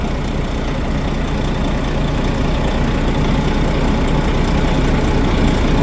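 A Volvo FH4 truck diesel engine idles at about 600 rpm while cold, with an engine knock, giving a loud, steady low-pitched rumble with fine repetitive ticking pulses, close by and without talk.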